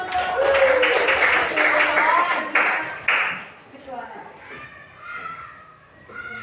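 Fourth-grade schoolchildren in a classroom burst into a round of applause, with dense, loud clapping for about three seconds, then fading into children's chatter and a teacher's voice.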